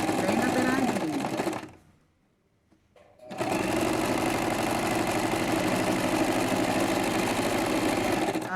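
A sewing machine runs steadily, stitching a fine seam right along the edge of a folded hem on a fabric case, stopping briefly for a second or so before resuming its continuous whirring rattle.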